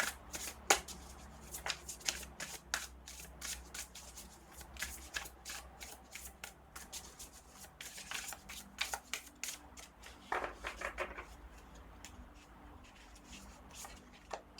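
A deck of Traveler's Oracle cards is shuffled by hand for a reading, with rapid flicking riffles and soft slaps in bursts, close and clear against a quiet room.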